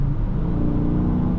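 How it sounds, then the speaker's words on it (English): A 2023 Dodge Charger R/T Scat Pack Swinger Edition accelerates with a steady, loud engine rumble and whir heard from inside the car, continuous and unbroken, with no voices. "The acceleration is effortless in this car."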